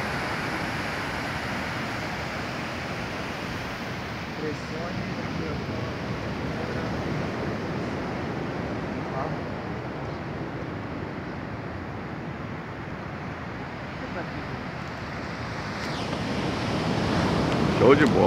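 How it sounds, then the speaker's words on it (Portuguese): Sea waves breaking on Matadeiros beach in Florianópolis, a steady broadband roar of surf with wind noise on the microphone, swelling louder toward the end. "Olha o mar, olha o mar, olha o mar."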